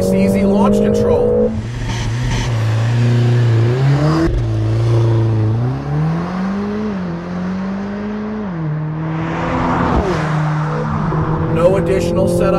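Mercedes GLA45 AMG launching under launch control, engine roaring close and loud as it climbs through rising revs with sharp pauses at gear changes, a brief burble between shifts, and some talk at the start and end.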